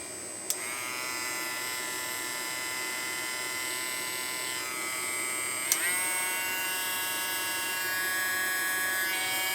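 A Hoto rotary tool motor runs at a steady, quiet high-pitched whine, close by, with two faint clicks as it is handled.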